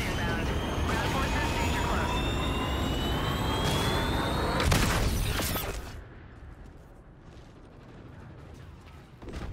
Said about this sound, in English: Trinity rocket inbound.